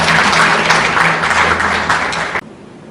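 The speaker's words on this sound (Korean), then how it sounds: "다시 한번 힘찬 박수 부탁드리겠습니다." An audience claps at a forum founding ceremony, a dense, loud burst of applause that holds steady for a couple of seconds, then cuts off abruptly.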